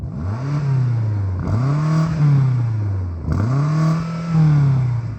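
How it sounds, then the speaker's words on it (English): BMW M5 CS V8 engine revved up twice to its soft limiter, each rise climbing and holding a loud, buzzing plateau before dropping back, heard close and clear. "Can you rev up the BMW"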